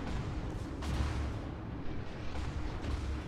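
Battleship guns fire a salvo in World of Warships, heard as deep, rolling booms and a continuous low rumble.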